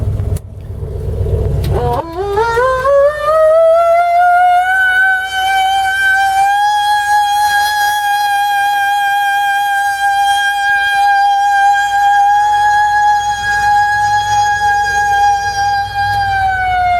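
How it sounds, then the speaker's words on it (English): A loud mechanical fire siren mounted on a 1977 Dodge Ramcharger winds up from low to a sustained high wail and holds steady, very close and continuous. "here's the fire siren in there. I'll throw that on and we'll take a listen"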